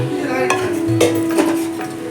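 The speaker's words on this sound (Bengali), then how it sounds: "এই যে ম্যারিনেশন করা চিকেনটা আমি দিয়ে দিলাম হাঁড়ির মধ্যে।" Marinated chicken for handi chicken goes into a cooking pot with a few clanks and scrapes of a utensil against the pot, spaced irregularly, with a soft sizzle and faint steady hum under it.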